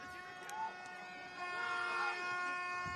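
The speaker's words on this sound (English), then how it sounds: "What an atmosphere though, with those air horns / hooters or vuvuzelas" Sustained droning air horn blasts overlap continuously at a football match, blaring at a moderate distance with crowd noise beneath.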